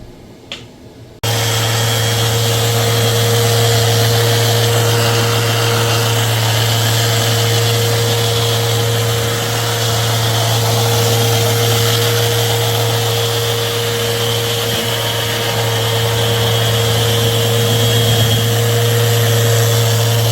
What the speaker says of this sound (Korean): 직소로 자를 땐 직소로 자르고 플런지스를 이용할 땐 또 플런지스를 이용해서 깔끔하게 작업하고 있는 모습입니다